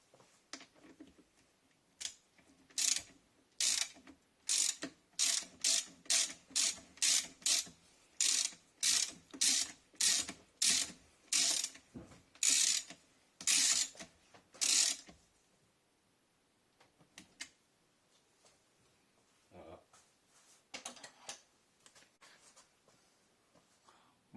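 A ratchet clicks in rapid close bursts as a screw is tightened during reassembly of a Honda gearbox, a long run of rhythmic strokes that stops partway, followed by softer handling noises.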